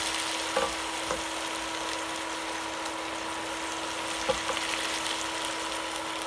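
Goat meat browns in a frying pan, giving a steady, even sizzle and crackle throughout with a few faint pops, close and alone without talk.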